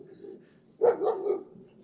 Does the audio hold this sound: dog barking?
yes